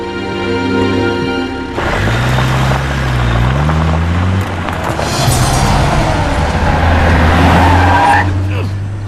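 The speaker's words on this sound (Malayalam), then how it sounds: "നീ വണ്ടി എടുക്കടാ" A car pulls off and drives away, its engine revving up through rising gear tones with a short tyre squeal, close and loud beneath bursts of talking.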